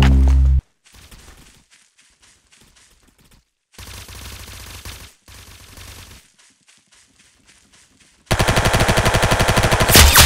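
Rapid bursts of gunfire from the Roblox shooter game Arsenal, loud and close, with short volleys separated by quieter gaps and a dense sustained burst at the end.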